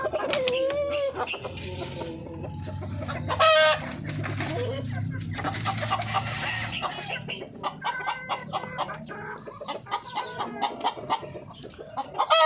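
Darag native chickens cluck steadily and close by on a farm, with scattered higher calls over a low background rumble.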